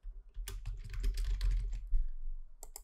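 Rapid clicky keystrokes on a computer keyboard, close and distinct, tapping out a short burst of typing in an otherwise quiet room.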